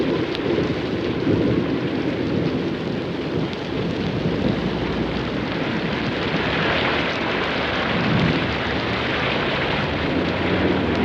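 Tropical thunderstorm with rain in Queensland: dense, steady downpour hissing throughout, with low rolling rumble beneath, loud and continuous with no voices.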